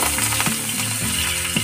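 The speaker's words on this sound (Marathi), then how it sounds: "सगळ्यात पहिला आपल्याला तेलामध्ये पुदिना टाकून घ्यायचा आहे, थोडासा पुदिन्याचा फ्लेवर येण्यासाठी" Mint leaves crackle and sizzle in hot oil as the base for egg bhurji, a steady frying hiss with a couple of sharper stirring spikes, close and fairly loud, with no talking.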